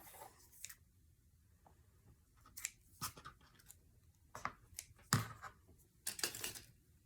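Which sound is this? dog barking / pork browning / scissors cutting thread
scissors cutting thread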